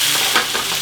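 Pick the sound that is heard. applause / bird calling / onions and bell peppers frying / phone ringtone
onions and bell peppers frying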